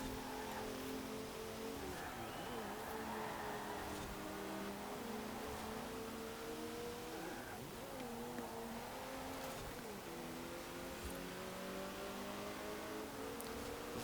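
A Lego Ferrari F40 in Forza Horizon 4 accelerates in a race, its engine note rising and falling steadily through gear changes over a faint, continuous road roar.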